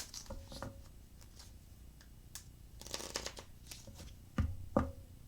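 A deck of tarot cards shuffled by hand, soft riffles and brushing followed by two sharper slaps near the end, close and fairly quiet.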